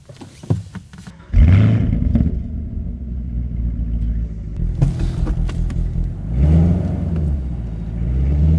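A 2019 Chevrolet Camaro 1LE track car pulls away hard, its engine roaring loud and close with rising revs, a brief ease-off, then a second surge that climbs again toward the end.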